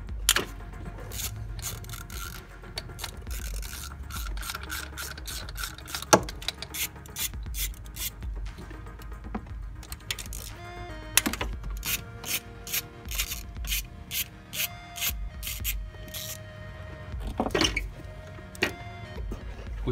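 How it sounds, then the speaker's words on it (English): An 11 mm wrench working throttle body bolts on a BMW E46 M3 S54 engine, with close, repeated metallic ratcheting clicks and scraping in irregular bursts. "you go ahead and take your 11 millimeter and you need to disconnect the throttle bodies"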